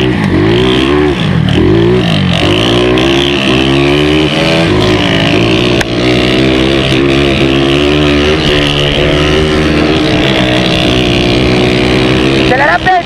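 A car engine revs hard and holds high, rising and falling pitch as it accelerates through a curve on a racing road, loud and close, with voices talking over it.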